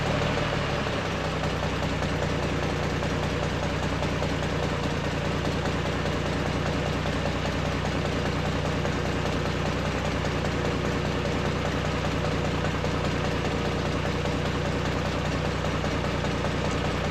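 A hydraulic forklift with a slant six engine idling while its cylinders lift the assembly, a loud, steady, close engine drone with even rhythmic knocking that runs unbroken throughout.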